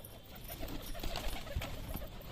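Soft, low cooing of Deshi Giribaj pigeons, including a Rampuri male, several overlapping calls close by against a faint rustling background.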